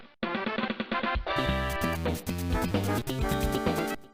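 Mario Circuit theme from the Game Boy Advance Mario Kart game, a bright chiptune intro with bouncy melody and steady bass, played alone and clearly throughout.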